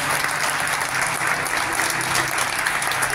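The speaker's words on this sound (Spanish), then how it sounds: "Den otro fuerte aplauso al Señor." A church congregation at an anniversary service claps loudly and steadily, a thick, even wash of applause filling the room for a few seconds.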